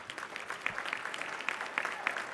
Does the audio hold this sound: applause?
yes